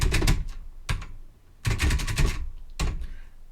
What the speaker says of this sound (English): one thing I love about the keyboard is it has an enter like this